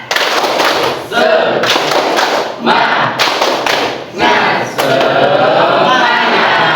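Indonesian classroom of standing students doing tepuk semangat spirit clapping, loud rhythmic bursts of group claps and chanting in several repeated phrases with brief pauses between them.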